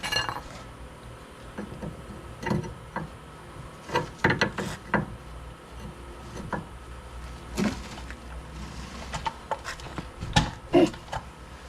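Metal tools clink and knock irregularly while a nut is tightened on a steering knuckle of a 2011 Hyundai Santa Fe, close, scattered taps and scrapes with quiet gaps between them.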